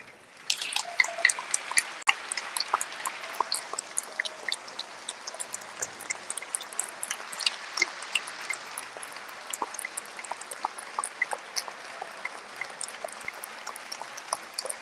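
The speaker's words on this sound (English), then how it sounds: "je vous demande de respecter 13 secondes d'applaudissements" Steady, dense crackle of clapping hands from a rugby league stadium crowd at Toulouse Olympique vs Leeds Rhinos, sustained without a break for about fifteen seconds, no voices over it.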